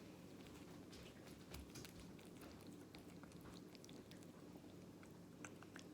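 A cat chews raw meat cat food up close, with steady wet munching and soft crunchy clicks and bites repeating through a constant low room hum.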